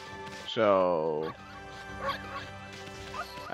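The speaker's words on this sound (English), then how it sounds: "Hi, dog." A dog in Okami HD gives one loud, drawn-out bark-like yelp, with game music and someone talking around it.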